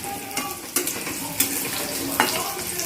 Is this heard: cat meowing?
no